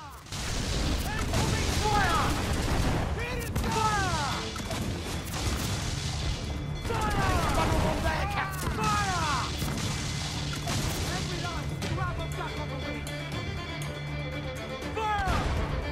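Sailing-ship cannons fire in Assassin's Creed 4 Black Flag during a naval fight against the HMS Courage. Heavy booms and crashes repeat over a constant roar of battle and sea, and voices talk over the din.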